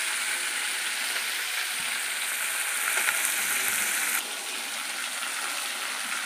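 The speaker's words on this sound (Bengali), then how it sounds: "দেখো বন্ধুরা এই মাছগুলো ভাজা করে নিচ্ছি।" Fish frying in a pan on a home stove gives a continuous, moderate sizzle with a faint clatter partway through. No one talks.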